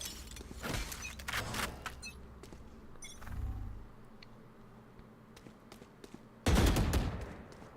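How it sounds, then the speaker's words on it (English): Valorant in-game gunfire during a 1v1 tournament match: scattered sharp shots and bursts across the clip, ending in a loud dense volley, with other game effects in between. "Fawcett re-swings and Yoshi just mows them down"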